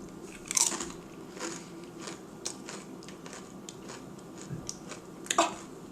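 A vegetable cracker made with carrots is bitten and chewed close up, giving a sharp crunch at the start and another near the end, with softer crackly chewing in between and no talk.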